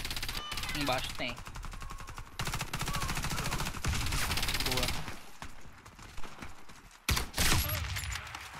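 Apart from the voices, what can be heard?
gunfire in the Warface video game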